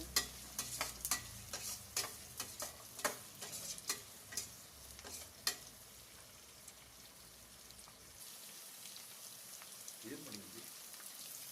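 Sliced onions and then carrot sizzle and fry in a pan for vegetable uppittu, with a dense crackling hiss and a run of sharp spattering pops early on that settle into a steady quieter sizzle, heard close.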